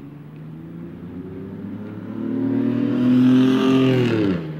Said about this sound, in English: That car so damn loud.